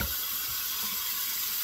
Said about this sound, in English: I'm gonna fill that sink up while we lather up.